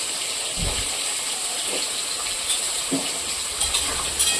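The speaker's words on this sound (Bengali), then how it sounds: "লবণ হলুদ দিয়ে আলুটা অনেকটা টাইম দিয়ে কষতে হবে আলুগুলো কষে নেবো ওই ফাঁকা তেলেই" Potatoes seasoned with salt and turmeric fry in oil for a cauliflower and potato curry, giving a steady close hiss and sizzle with a few soft knocks and clatters along the way.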